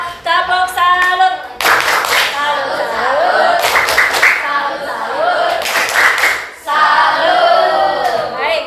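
A classroom group performs a rhythmic tepuk salut clapping cheer, bursts of clapping alternating with loud chanting children's voices, close and lively.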